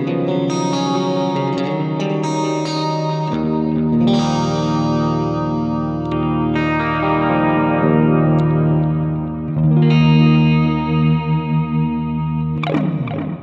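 An electric guitar plays through a Fractal clean preset on scene one, giving ringing chords and single notes with shimmering echo and reverb that sustain between strums, loud and up front.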